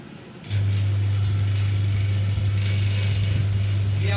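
A vacuum pump kicks on abruptly to evacuate a 950°C atmospheric furnace chamber, running with a steady, loud low hum and faint mechanical rattle.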